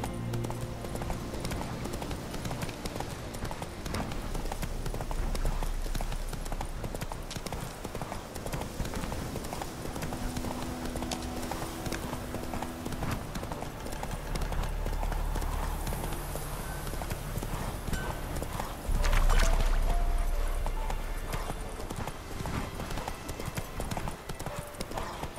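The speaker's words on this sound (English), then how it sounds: "Run, Roach." Horse hooves clip-clop at a steady gallop across the whole stretch in The Witcher 3, loud and close under game music and ambience, with a brief heavier thump near the end.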